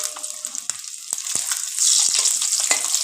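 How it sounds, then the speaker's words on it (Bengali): Eggs seasoned with turmeric and salt fry in hot oil with a bright, close sizzle, broken by sharp pops and spatters that grow steadier and louder partway through. "ডিমগুলো আমরা লাল লাল করে ভেজে নেব।"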